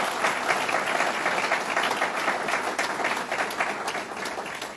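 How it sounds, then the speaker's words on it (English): Audience applause for an honored guest at a New York State budget event in Westchester County, steady dense clapping held at an even level throughout, with a slight fade near the end. "Let's give him a round of applause."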